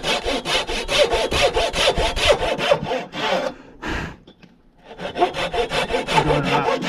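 A hand saw rasps through a timber in steady back-and-forth strokes, loud and close, pausing briefly midway before the rhythmic cutting resumes, while milling timbers for a porch.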